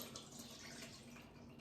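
Basil and garlic olive oil is poured through a strainer into a bowl, making a faint, steady liquid trickle with a light splashing texture, close by and without talk.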